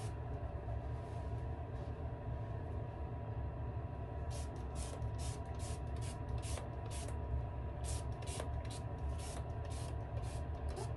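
Several quick hissing sprays in a row, close by, following a stretch of quiet room noise.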